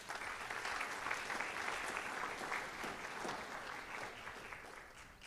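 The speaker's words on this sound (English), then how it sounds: "Let's give all of these students a round of applause." An audience at a high school senior awards night applauds the student award nominees, with steady, dense clapping that fills the room continuously from start to finish.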